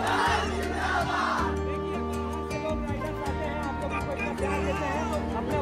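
A dense crowd gathers close around a car at a meet-up in Forbesgunj, a loud steady hubbub of voices and shouts with chanting mixed through it.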